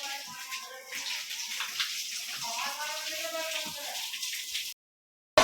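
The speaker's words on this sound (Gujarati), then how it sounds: "હાલો એ જો ભરવા માંડ્યા પાણી." Water pours steadily into a container from a motor-fed supply, a continuous close rushing and splashing that runs for several seconds before cutting off abruptly.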